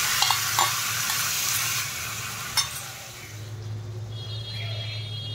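Marinated chicken kidneys fry with potatoes and onions in a pan, giving a steady, close sizzle with stirring scrapes that soften slightly partway through.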